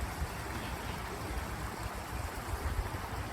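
A creek flows beneath a paved footbridge, giving a steady, even rush of water with a soft continuous hiss and no breaks, heard from close by with no voices.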